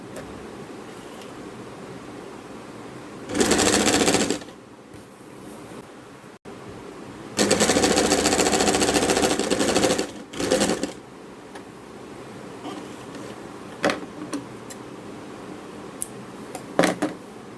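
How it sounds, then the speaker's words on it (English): A sewing machine runs a straight stitch in red thread on a dupatta edge, in two loud bursts of rapid mechanical whirring, the second longer, with quiet handling and clicks in between. "let me just do that normal straight stitch on the sewing machine"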